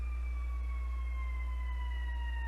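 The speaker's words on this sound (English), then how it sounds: "it's the ambulance" A siren passes outside, its two steady wailing tones sliding slowly downward as the vehicle goes by, faint and continuous over a low hum, with no talking.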